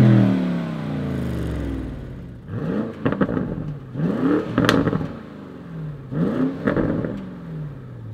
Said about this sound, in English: Let's make a sound test. First, the normal GTS exhaust that we also have at the SUV, and then this special optional performance exhaust.